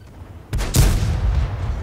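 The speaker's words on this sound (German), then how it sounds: "Oh, der Schuss hat nicht getroffen." A tank cannon firing in the online game World of Tanks on a glacier map, a single sharp loud boom with a brief rumbling tail.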